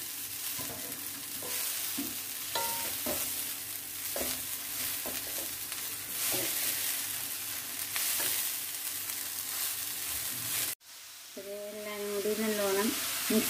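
Chopped pumpkin leaves fry and get stirred in a pan for a leaf thoran, a strong constant sizzle with repeated scraping and tapping of the spoon, then a brief cut to a louder, hissier stretch.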